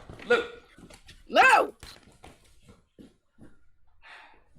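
A dog gives a couple of sharp, rising barks and a whimper close by in a home, separated by gaps with quiet noises between.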